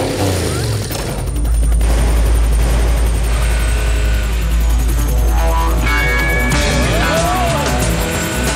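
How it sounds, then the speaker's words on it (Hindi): A cartoon helicopter chasing a car makes a loud, steady engine and rotor drone with a deep rumble, joined by rapid bursts of clattering noise and a few rising effect tones. "मैं देखता हूँ कि ये हेलीकॉप्टर हमें कैसे पकड़ के ले जाता है"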